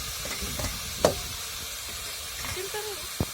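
Onion sautés in a pan with turmeric, cumin and mustard seeds, a steady soft sizzle broken by a few clear knocks of a spoon stirring against the pan.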